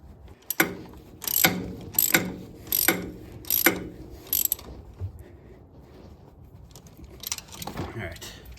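Torque wrench ratcheting on an EK Hatch, five crisp, evenly spaced bursts of clicking close up, then a pause and a couple more ratchet strokes near the end.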